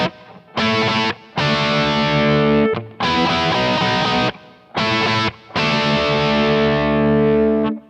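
An electric guitar with heavy distortion plays a chunky rock riff, tuned a half step high, in loud bursts of sustained power chords separated by brief pauses, with no voices.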